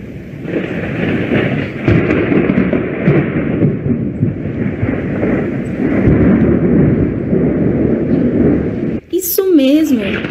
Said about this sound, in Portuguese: Isso mesmo, esse é o som do trovão.